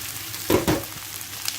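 Potatoes and tomatoes sautéing in a pan for green-bean recipe, giving a soft steady sizzle with two brief louder bursts as the food is stirred, close and fairly quiet.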